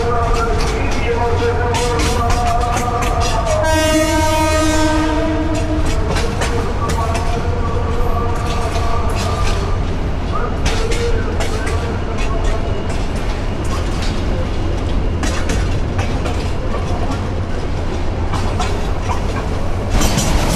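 Mohonganj Express 789 passenger train running out of Dhaka, heard from onboard as a loud, continuous rumble with rhythmic wheel clatter and a brief tonal horn-like whine early on.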